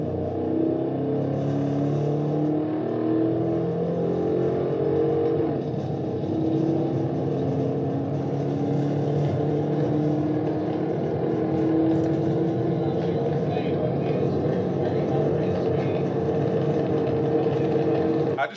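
A Georgia State Patrol car with a 5.7 engine chasing a Mustang GT at high speed, with a loud, sustained engine drone and road rumble that shifts pitch steadily as the car pushes hard.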